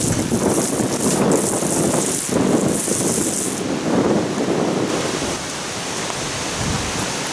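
A pump runs steadily, pushing pink antifreeze through a camper's plumbing during winterization, a loud continuous rushing hiss with shifting surges, close up and alone.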